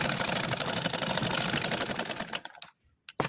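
A sewing machine runs fast, stitching cloth crosswise in a rapid, steady mechanical rattle for over two seconds, then stops, leaving a few short bursts of stitching with quiet gaps between them.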